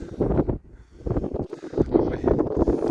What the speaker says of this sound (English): The wind has picked up, as you can probably hear.